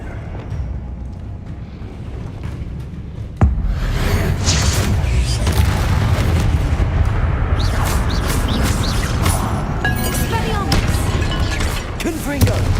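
A Glacius ice spell is cast in the Hogwarts Legacy video game amid a loud spell battle: a sharp crack opens dense, continuous blasts and impacts, with voices mixed into the clamor.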